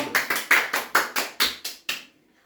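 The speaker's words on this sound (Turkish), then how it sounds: "Alkışla yapalım." Nine sharp hand claps in a steady rhythm from a small group at a birthday candle-and-wish moment, close and clear, ending in quiet.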